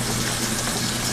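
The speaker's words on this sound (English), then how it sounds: "I'm gonna put a little bit more water." Water gushes steadily from a tap into a pot holding carrots, a loud, continuous splashing rush with a low hum underneath and no talking.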